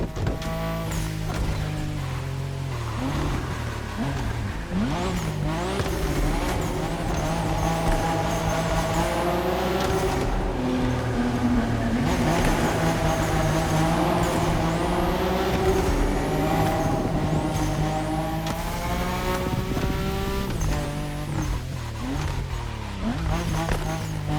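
A Toyota Supra Ryujin Edition drifts in The Crew Motorfest, its engine revving and wailing through gear changes while the tyres squeal continuously, loud and close, throughout the run.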